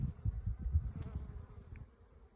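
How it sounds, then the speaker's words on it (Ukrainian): Bees buzz low and close around blooming mustard flowers in a field, a steady droning hum that fades slightly toward the end, with no voices. "Бджілки вже працюють"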